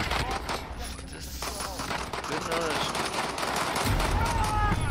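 Rapid bursts of Warzone gunfire crackle continuously, with a voice talking over the shooting throughout.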